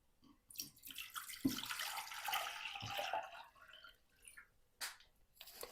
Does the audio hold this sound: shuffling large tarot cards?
no